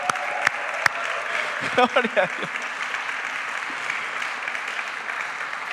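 A church congregation applauds in a steady, roomy patter, with a voice speaking briefly over the clapping.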